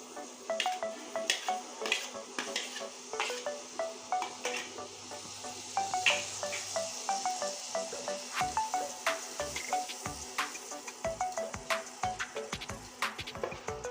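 Chopped tomato hits a hot pan of fried spice masala, with a steady close sizzle running throughout and frequent sharp clinks and scrapes of a spoon stirring against the pan, no talking.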